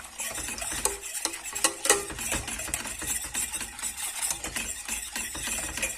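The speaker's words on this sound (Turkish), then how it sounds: "şimdi ocağımızın altını açıyoruz ve aynı yönde karıştıra karıştıra pişiriyoruz" A spoon keeps stirring milk pudding and chocolate sauce in a pot on the stove, giving soft, continuous scraping with small clicks and taps against the metal, quiet and close.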